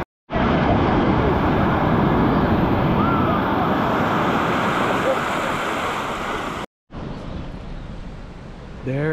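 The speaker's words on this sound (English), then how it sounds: "World famous black sand beach of Maui." Loud surf roars continuously on Maui's black sand beach in Hawaii, a dense wash of breaking waves close at hand that cuts out for a moment near the end and then surges back.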